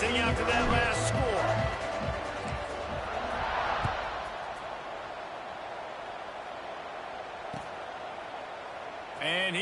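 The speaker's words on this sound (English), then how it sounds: "this crowd is buzzing after that last score" A dense stadium crowd roars and buzzes steadily in a College Football 26 game after a score, a broad continuous wall of noise with a few brief thumps, heard alongside talk.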